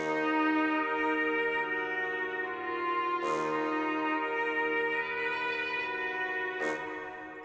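A sampled bassoon from a stock Kontakt preset holds a steady, reedy sustained note with rich overtones, layered in a trap beat, with two sharp bright hits about three seconds apart.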